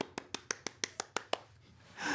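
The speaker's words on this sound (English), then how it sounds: "I'm clapping my hands." Hands clap at home in a steady run of eight crisp, evenly spaced claps, close and clear, followed by a brief breathy sound.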